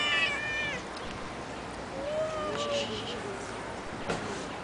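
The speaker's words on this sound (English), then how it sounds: "The two cats meeting each other." Two cats meeting each other trade meows: a few high, wavering calls early on, then longer, drawn-out mews in the middle, over a soft background hiss.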